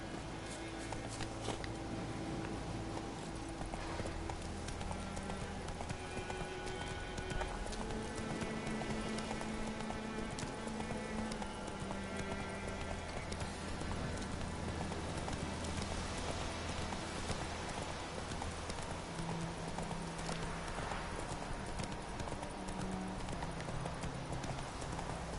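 Rhythmic hoofbeats of Roach, the horse from The Witcher 3, clip-clopping steadily at moderate volume over a soft rain-like ambient wash, with faint game music tones underneath.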